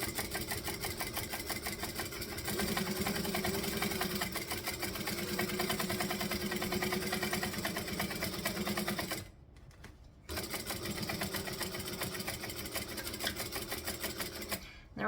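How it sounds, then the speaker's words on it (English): A sewing machine running long top stitching and back stitching at stitch length 4 on a sewing pattern project: a steady, fast mechanical whir and rattle near at hand, with one brief pause before the stitching resumes. "So we're going to go up to a 4 top stitch because I like pretty top stitching."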